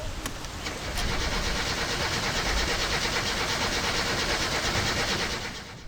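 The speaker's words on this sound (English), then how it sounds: "Once the camshaft was aligned and the engine thrown back in the car, it was time to start her up again." A rebuilt car engine in My Summer Car, its camshaft just realigned and the engine refitted, cranks and starts into a rough, pulsing run at moderate volume, with no talking.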